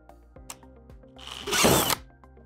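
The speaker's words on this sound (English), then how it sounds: "So now that I have that drilled out" Power drill boring a 13/32 hole for an antenna mount on a Polaris RZR, a loud close burst of about half a second following light clicks and handling noises.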